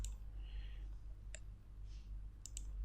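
A computer mouse clicks a few times, sharp single clicks that come close together near the end, quiet against a low background hum while someone works in Corel Draw.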